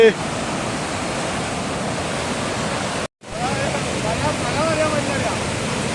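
Cheeyappara waterfall near Munnar, Kerala, pours down in a dense, continuous rushing roar, loud and close, broken by one brief gap in the sound.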